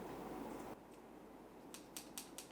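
Several quick, crisp snips of non-fabric scissors cutting knitting yarn close by, four short cuts in a brisk rhythm following a stretch of quiet rustling.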